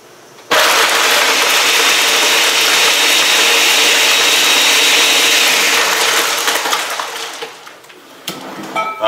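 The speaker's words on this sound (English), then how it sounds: "Now I'm going to turn on the blender, let it blend for a few seconds." An electric blender mixing honey and apple cider vinegar detox water switches on abruptly and runs as a loud, steady whirring roar for several seconds. It eases down near the end and stops with a few clattering bumps.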